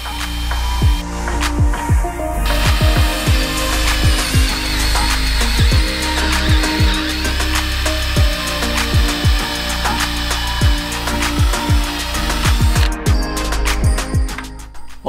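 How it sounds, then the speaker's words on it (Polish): A power drill bores a 20 mm-deep hole in a landing gear part for a homebuilt airplane, making a close, steady whine broken by repeated grinding catches and clicks as the bit bites in, with no voices. "Rozpoczynamy wiercenie naszego otworu."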